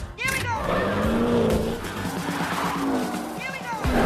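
Race cars speeding through a street race in an action film, engines roaring loudly with tire squeals and skids, continuous and close, with dialogue and score mixed in at times.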